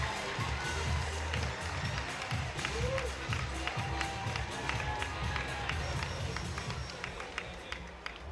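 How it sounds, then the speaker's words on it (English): Crowd noise at a Nelson Giants versus Southland Sharks basketball game, with scattered clapping and cheering in a large arena, a busy continuous roar and a voice speaking through it. "give a round of applause"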